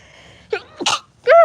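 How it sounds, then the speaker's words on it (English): A single close, sharp human sneeze, preceded by a couple of quick intakes of breath. "I'm gonna sneeze. Hold on."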